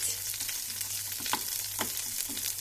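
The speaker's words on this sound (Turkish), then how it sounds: "elime bir ağaç kaşık aldığım böyle eziyorum" A wooden spoon mashes food in a pan over a steady, close frying sizzle, with a few soft thumps and scrapes as the spoon presses down.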